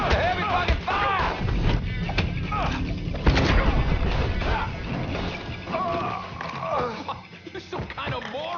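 Heavy gunfire in Mafia III during a firefight with incoming police, loud bursts of shots and crashing impacts mixed with game music, while characters shout over the noise.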